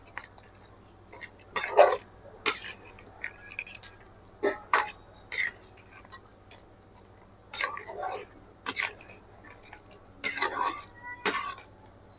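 A spoon stirs a crab and potato fry with added coconut in a pan, making close, irregular bursts of scraping and clinking strokes separated by quiet pauses.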